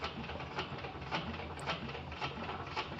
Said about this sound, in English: now you can see I'm sewing this a second time and taking it right to the corner